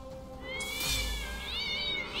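A cat in the South Park: The Stick of Truth video game lets out a drawn-out, wavering meow at close range, then a second rising, yowling cry. The calls are loud and sit over a steady game background with no talk.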